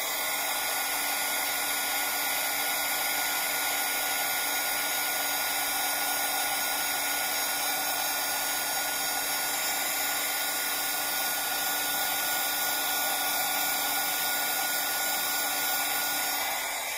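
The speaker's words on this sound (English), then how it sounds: "Let me dry it just a little bit." A hair dryer blowing close by to dry paint on a bird painting, a loud, steady whirring hiss that runs unbroken from start to finish with no other sounds.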